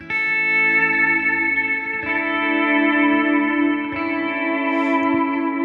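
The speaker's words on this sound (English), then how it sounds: "Now it's a rhythmic delay." A continuous wash of guitar chords with rhythmic delay repeats, new chords entering every couple of seconds over a steady, ambient swell.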